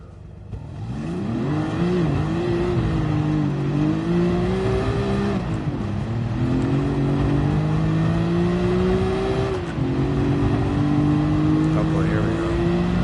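A race car in GT Sport, driven in reverse around the Nordschleife, revs hard through rising gear pulls with brief dips at shifts, loud and close, while a person talks over it.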